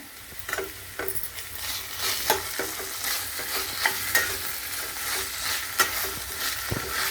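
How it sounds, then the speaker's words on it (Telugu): Ginger-garlic masala paste sizzles in a pan with green peas for matar pulao, while a spoon stirs and scrapes it in repeated strokes. The frying hiss is close and steady, with no talking. "అల్లం వెల్లుల్లి మసాలా ముద్ద కూడా బాగా వేగింది"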